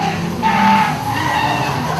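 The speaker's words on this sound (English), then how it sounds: "Now this is one of the beginner tracks where these 2 cars show their tandem skills, doing a lead chase just like the battles in D1NZ." Two drift cars run a tandem lead-chase at Ebisu Circuit in Japan, one an R32 Skyline and one an FD. Their tires skid and squeal loudly and continuously over the engine roar, close by, with a sustained screech that swells midway.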